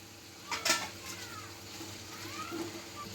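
Whole spices, green and dried chillies, ginger, garlic, coriander and mint are stirred in a pan, giving faint sizzling with a few close spoon scrapes against the metal.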